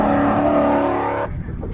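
An MG sports car's V8 engine revs hard at the Kop Hill Climb, a loud, close, sustained roar that cuts off abruptly, leaving a softer rumble.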